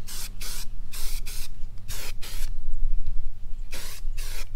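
Aerosol clear coat sprayed in light passes onto Ferrari 458 Italia interior button parts, five short bursts of hissing spray with brief pauses between, close and fairly loud over a low steady background hum.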